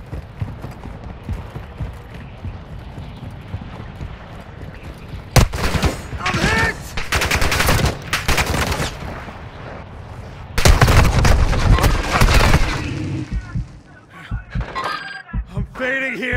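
Heavy gunfire in the Call of Duty Warzone 2.0 video game, with loud clustered volleys of rapid shots breaking out after a quiet opening, a second intense burst later and scattered shots trailing off, game voices occasionally speaking.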